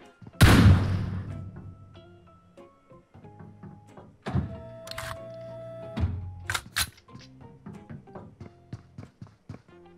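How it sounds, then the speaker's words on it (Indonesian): Handgun gunfire in a video game: one sharp, loud shot opens, then a later burst of quicker cracks and thuds mixed with smaller game sounds. "Kita coba tembak ya."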